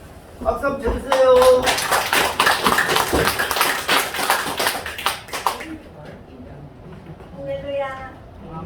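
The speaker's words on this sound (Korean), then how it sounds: "박수 한번 쳐주세요." A crowd bursts into applause for several seconds, steady and full, with a voice speaking before the clapping starts and again after it fades.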